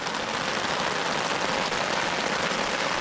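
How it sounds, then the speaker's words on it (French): Heavy rain pours down steadily at a carp fishing spot, a dense, even hiss of drops drumming on surfaces without any break. "Oh, je peux te dire que la pluie ça tombe, hein."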